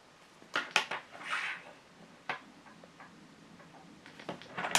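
A Sistema to-go cutlery set of knife, fork and spoon handled close by, giving scattered light clicks and ticks of the utensils knocking together, with short quiet gaps between taps.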